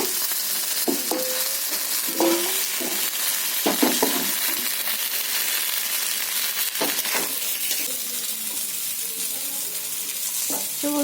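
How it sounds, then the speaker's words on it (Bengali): Eggplant pieces frying in mustard oil in a wok, a steady broadband sizzle running throughout with scattered clinks and scrapes of a spatula, fairly loud and close, with no talking. "বেগুনটা আমার ভাজা হয়ে গেছে"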